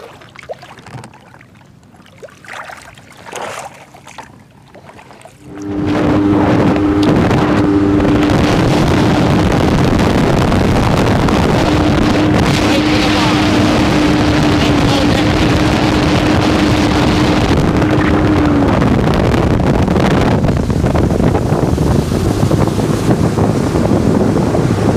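A Sea-Doo GTX DI personal watercraft idles at low RPM on the water, its engine starting after a quiet few seconds with wind and splashing, then a steady loud droning rumble with a faint sustained tone and no talk.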